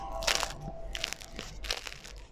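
Crisp crust of homemade bread baked in a cocotte crunches in several sharp, dry bursts close to the ear, with no talking.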